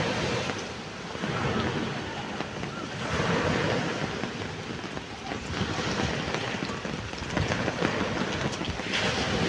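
Ocean waves wash onto a beach under an overcast sky, a steady broadband roar with rolling surges and some wind buffeting the microphone, continuous and fairly close.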